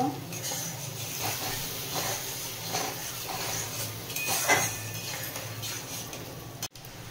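Cumin powder is stirred into a malai curry with chickpeas in a pan, producing steady soft scraping and a gentle sizzle close by, with a few metallic clinks.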